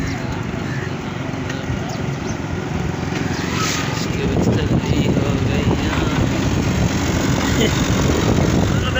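A tractor engine runs steadily on a Pakistani village farm growing napier grass, a continuous rough rumble with a louder patch midway, while people talk over it.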